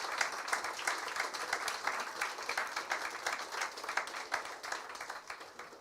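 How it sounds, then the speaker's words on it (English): A media launch audience applauds two government ministers, a steady round of clapping with many hands, moderately loud and continuous throughout without speech over it. "I ask you to give our two ministers a very warm round of applause and welcome."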